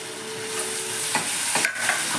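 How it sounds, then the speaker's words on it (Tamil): Tomato, green chili and crushed garlic sautéing in a pan, a steady close sizzle with a few scraping stirs of a spoon. "இது நல்லா வதங்கட்டும்."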